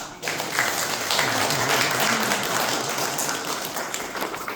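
A crowd applauds at a community speaking event, the clapping rising quickly and holding as a dense, even patter for several seconds before easing slightly.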